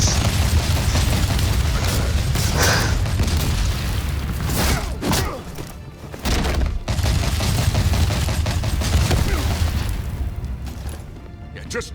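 Repeated bursts of gunfire and booms in Batman: The Telltale Series, loud and sustained volleys with short pauses between, mixed with game voices.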